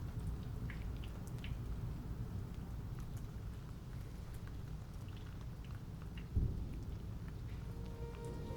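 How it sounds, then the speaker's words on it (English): Light rain falls steadily as a stage sound effect in a theatre production, a soft continuous patter with a single brief louder thump near the end, with no voices over it. "And as light as the rain seems, it still rains down on you."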